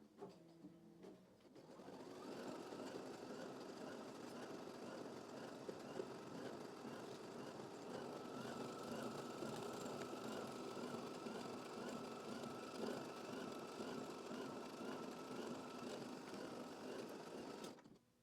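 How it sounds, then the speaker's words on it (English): An embroidery machine stitches a tack-down line on a towel for an in-the-hoop scallop edge, a steady, fast mechanical whir and rhythmic needle patter that runs alone for about sixteen seconds after starting. "I'm going to go ahead and hit go, and we're going to start to stitch the tack down."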